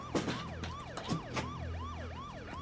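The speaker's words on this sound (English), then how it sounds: "I can see poor Chongwoo on the stretcher taking from the ambulance or from paramedics." An ambulance siren in a web drama wails in a repeating rising-and-falling sweep, fairly clear and steady, with a few dull thumps and knocks around it and no talking.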